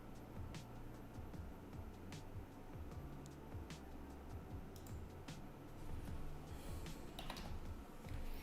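Buttons and keys on a computer clatter in quick, irregular clicks during an online Hold'em poker tournament, close but quiet, with no talking.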